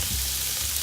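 Sliced ginger frying in sesame oil in a fry pan, a steady loud close sizzle with no pauses, bright hissing crackle throughout and a low rumble beneath.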